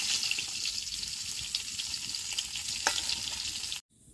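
Hilsa fish heads frying in oil in a wok give a continuous bright sizzle with faint stirring for about four seconds, then the sound stops abruptly as they are lifted out; no one talks.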